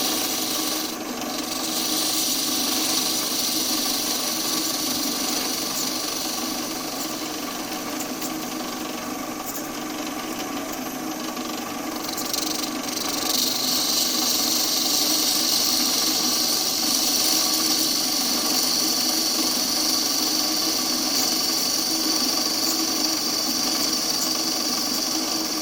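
Wood lathe turning a piece curved on the inside, a tool taking light cuts that give a steady, continuous rasping scrape with a faint high hiss, running evenly throughout with no talking.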